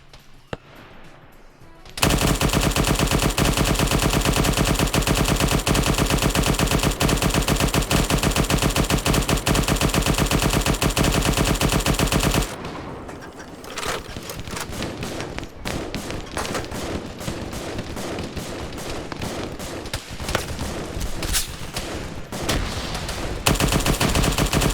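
A .50 cal machine gun in Halo pours out a long, loud, unbroken stream of rapid fire. It is followed by further bursts over clattering battle noise, with no voices over it.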